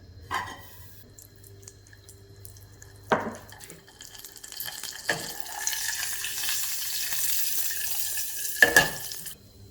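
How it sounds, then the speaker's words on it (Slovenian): Steady sizzling of pork cracklings frying in a pot, with a few sharp clanks and splashes over the hissing. "Ok, zdaj bom dala malo ocvirkov v posodo."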